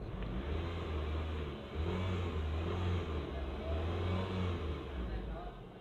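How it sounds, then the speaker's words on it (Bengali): A 2007 Toyota Harrier's engine runs steadily with a low droning hum and slight swells in revs, close and fairly quiet, with no talk over it. "আপনাকে ইঞ্জিনের সাউন্ড শোনানোর চেষ্টা করেছি"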